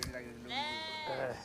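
A sheep bleats up close, a drawn-out wavering call followed by a second shorter bleat, with faint voices of people around the herd.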